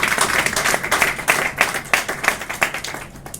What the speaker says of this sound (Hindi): अब ताली बजाइए।